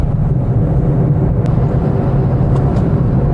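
A car with an automatic gearbox in manual mode at a driving school hums steadily with a low, continuous engine and road drone from inside the cabin, with no clear gear-change breaks.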